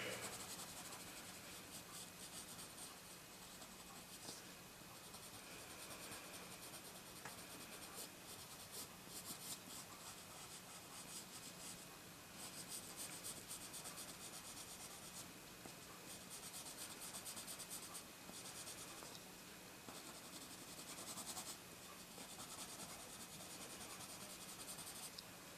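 A pencil draws the outline of an eye on paper with a long, steady, faint scratch of graphite, close up and alone.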